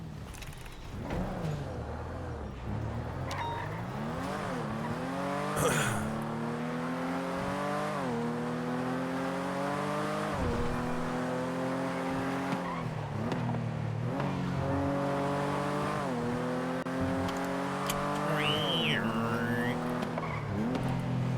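A car engine running roughly in a GTA roleplay game, revving up and down in repeated uneven surges with occasional tire squeal, loud and continuous.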